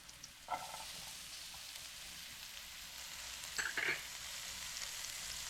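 Mushrooms and onions frying in a pan give a steady, soft sizzle, with a couple of brief louder clatters of stirring partway through and no talking.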